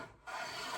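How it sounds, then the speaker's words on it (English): A hand plane shaves a convex edge on a piece of wood in one short, soft rasping stroke after a brief pause, close and quiet, with no talking. "So I'm just going to start planing on both sides and take some material off."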